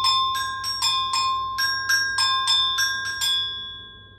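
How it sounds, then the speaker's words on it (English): Metal agogo bells, one small and one large, are struck about a dozen times in a lively uneven rhythm, bright ringing clangs close up with short decays. "We also have these agogo bells."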